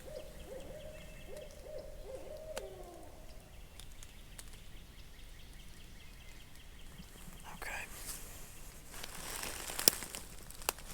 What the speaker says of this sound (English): Them hoot owls got a bird cranked up over on this other ridge where I was kind of thinking they'd be